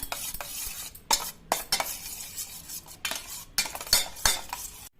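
A spoon stirs palak paneer cheese pakora batter with chili flakes, oregano and salt in a bowl, making a quiet series of clinks and scrapes in irregular close-up bursts with brief pauses between.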